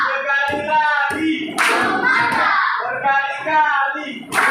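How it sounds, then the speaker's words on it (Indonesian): A school class gives a group a 'tepuk mantap' cheer, rhythmic patterned hand clapping in short bursts, mixed with children's voices chanting along, close and fairly loud. "mari kita berikan tepuk mantap untuk kelompok 1"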